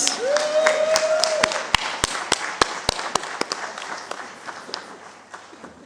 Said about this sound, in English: I'm a Toastmaster, so we clap until the panelist is seated